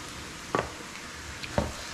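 Chestnut mushrooms cooking down in a pan, a faint steady sizzle under two sharp scrapes of a utensil stirring, close and quiet.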